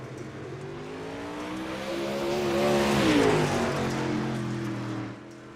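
A super late model race car laps the track at Lanier, its engine note steady and loud, rising through a strong pass in the middle, then fading slightly at the end, with no talk.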